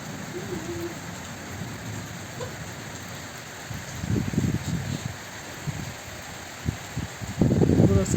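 Rain pours steadily over a village with a light wind, a continuous hiss of drops on surfaces, close and moderately loud, with a few heavier bursts of patter and rustle toward the end.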